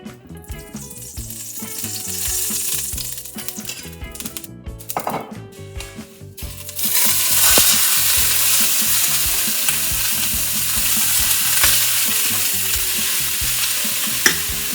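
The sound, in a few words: spinach frying in olive oil in a pan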